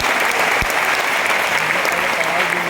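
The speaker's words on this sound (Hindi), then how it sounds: "तो आपके लिए ताली होनी चाहिए यार" An audience at a business motivational seminar applauds, a dense steady burst of clapping that stays loud throughout.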